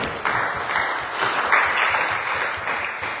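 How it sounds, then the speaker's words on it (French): A church congregation applauding the Lord during a Sunday service, a dense, loud burst of many hands clapping continuously and close, with no clear speech. "Acclamons très fort le Seigneur."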